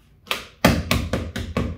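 Knocking on the side of a plant pot holding an alocasia in potting soil, five dull taps in an uneven rhythm, close and fairly loud with no talk.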